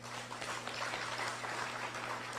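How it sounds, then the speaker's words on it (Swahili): An audience claps steadily in a hall, a diffuse wash of applause sustained throughout, fairly faint and distant, with no speech over it. "Mujipigie makofi."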